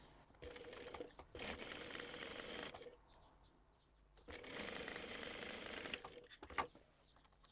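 A sewing machine stitches down the sides of a crossbody bag in two bursts of rapid, buzzing needle runs separated by a quiet pause, close and clear with no talking.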